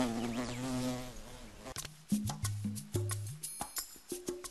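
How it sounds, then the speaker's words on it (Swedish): A bumblebee in flight makes a loud, wavering wingbeat buzz for the first couple of seconds. The buzzing then gives way to a series of short, plucked musical notes. "Humlan slår jättefort med vingarna och då låter det så här"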